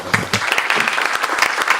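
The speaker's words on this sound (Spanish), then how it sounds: "Les pido un voto de aplauso para Carlos Valle, por favor." Audience applause for speaker Carlos Valle at a conference, a dense burst of many hands clapping close and loud throughout, with no talk over it.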